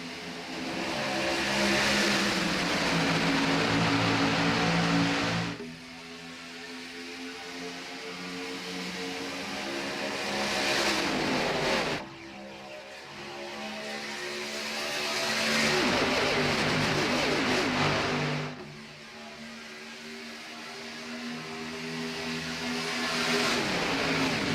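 Race cars roar past on the Daytona International Speedway oval in a racing video game, engines swelling loud then dropping away in repeated waves as the pack accelerates, with no talk over it.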